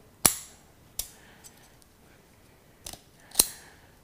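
Kitchen scissors snip the fins off a wet red porgy, four sharp separate cuts with quiet gaps between them, heard close up against near silence and with no one speaking.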